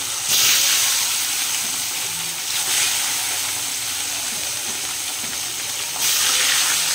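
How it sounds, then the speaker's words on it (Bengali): Fish frying in hot oil in a pan on a gas stove makes a loud, steady hiss and sizzle with brief surges, with no talking. "এবার মাছগুলো এক এক করে ভেজে নেব।"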